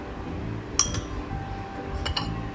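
Metal spoon clinking twice against a pot while yogurt starter is stirred into warm milk for homemade curd, two bright clinks a second apart over a quiet kitchen background.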